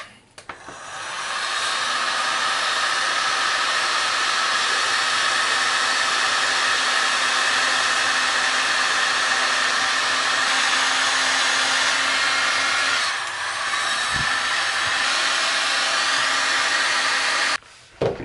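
A heat gun blows steadily for about sixteen seconds to shrink heat shrink tubing on wiring, a loud close whooshing drone of air and fan that switches on and off at the ends, with no speech.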